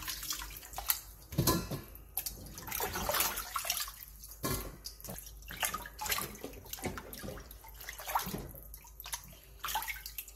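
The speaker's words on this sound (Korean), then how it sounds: "다 절여진 무는 물에 한 번만 가볍게 씻어준 뒤 물기를 충분히 빼놔주세요." Salted radish for kimchi is rinsed in water, with close splashing, sloshing and dripping that comes in irregular bursts over about ten seconds, and nobody speaks.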